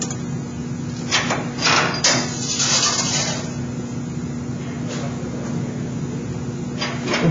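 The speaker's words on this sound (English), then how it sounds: "I'm going to just do it all with the hand brake" Sheet metal for a slip-on duct end cap is bent on a hand brake, giving loud metallic clunks and clamping thumps over a steady background hum, with a few separate knocks spread across the stretch.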